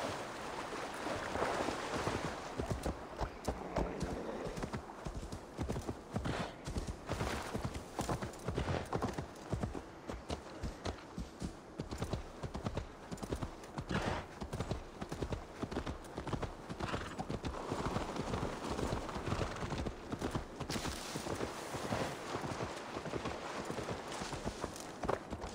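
Continuous horse hoofbeats clip-clopping at a steady trotting rhythm throughout in the video game Assassin's Creed Valhalla, fairly loud, over a soft outdoor ambience with no talking.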